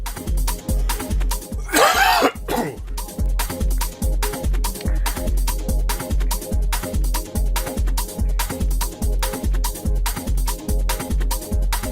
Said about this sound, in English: judging by that cough, it's definitely time to go and get a drink